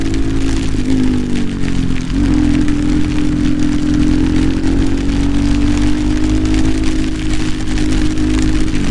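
Rain falls continuously during a motorbike ride on a Karnataka road, a loud steady wash over a droning engine hum, with no talk.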